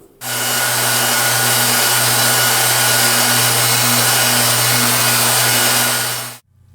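A power sander wet sanding a brass plaque hums loudly and steadily for about six seconds, starting and stopping abruptly, with a constant buzzing drone and grinding hiss.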